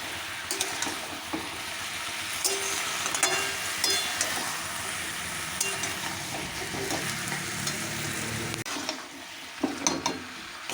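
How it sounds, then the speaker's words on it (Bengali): Meat fries in a kadai with a continuous loud sizzle, broken by frequent scraping and stirring clatters against the pan and a burst of stronger scraping near the end. "তো চলো তাহলে মাংসটা আমি কড়াতে দিয়েছি"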